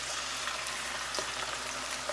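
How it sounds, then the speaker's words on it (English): Chicken wings fry in hot oil with a steady, dense hiss, scattered crackles and pops rising through the sizzle. "You hear that crackling and sizzling?"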